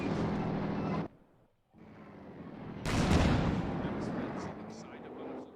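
Artillery barrage in a World War II real-time strategy game, heard as loud rumbling blasts and gunfire that cut out briefly, then return heavier with dense overlapping explosions; a voice comments over part of it.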